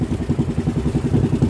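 A small boat engine sputters and chugs rhythmically as it is cranked without catching, a low pulsing clatter close by with no talk.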